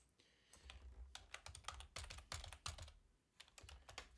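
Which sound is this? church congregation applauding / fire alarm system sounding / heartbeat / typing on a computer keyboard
typing on a computer keyboard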